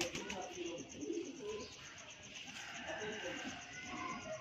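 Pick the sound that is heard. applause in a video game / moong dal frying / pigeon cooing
pigeon cooing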